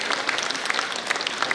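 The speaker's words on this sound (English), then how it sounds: "Can we have a big round of applause for this insightful and informative session" Sustained applause from a healthcare conference audience after a panel session, a dense, even patter of many hands clapping at steady loudness throughout, with no voices above it.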